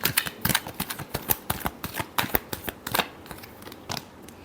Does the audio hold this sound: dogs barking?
no